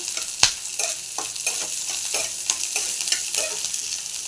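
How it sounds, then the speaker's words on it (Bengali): Onions fry in a pan for aloo posto, a continuous close sizzle broken by repeated scraping stir strokes at a fairly regular rhythm, with no voices. "পেঁয়াজগুলো একটু ভালো করে ভাজা ভাজা করে নিলেই"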